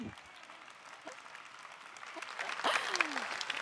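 Faint applause from a conference audience, a soft patter of clapping that builds slightly, with a voice speaking briefly over it.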